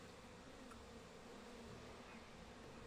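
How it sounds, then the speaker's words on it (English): Bee buzzing in the video game Slime Rancher 2, a faint, steady insect drone running unbroken for the whole stretch, quiet and somewhat distant beneath a soft ambient game background. "There's a bee somewhere over there."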